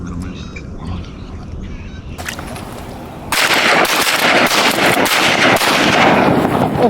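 Shotgun blasts fired at ducks landing on the water during a late-season hunt: a sharp volley of several close, loud shots in quick succession after a quieter stretch.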